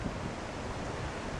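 Steady, fairly loud wind rushes across the microphone in a continuous broad roar with no pauses, heard alone on a sunny countryside walk near the village of Clare.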